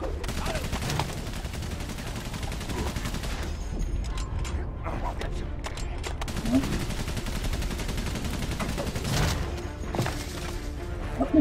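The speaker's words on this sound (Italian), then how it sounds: "aspettiamo che non ci spari addosso" Gunfire rattles through a Valiant Hearts battle scene, with repeated bursts and scattered shots over a dense, rumbling wartime background that keeps going the whole time.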